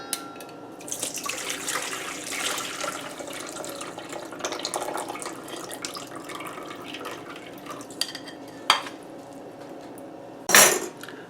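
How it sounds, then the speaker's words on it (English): Water and clatter from bowls being drained at a kitchen sink while making Thai chicken curry coconut soup, a steady splashing wash with dish clinks and a couple of sharp knocks near the end. "take these bowls and drain them"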